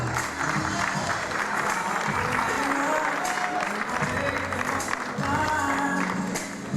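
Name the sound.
audience applause at awards ceremony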